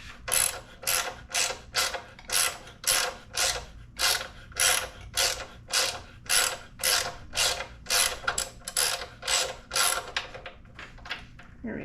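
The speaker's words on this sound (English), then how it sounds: "Instead of taking half a day to take a bolt out, I'll just use a ratchet." A ratchet wrench turns a 7/32 bolt out on a Harley-Davidson Dyna in a workshop, making a steady series of about twenty rhythmic clicking strokes, close and clear with no talking.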